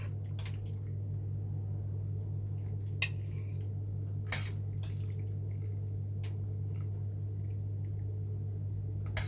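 Plates and cutlery being set out to serve homemade pasta manti, a few sharp clinks and taps of dishes scattered over a steady low hum, close and fairly quiet with no talking.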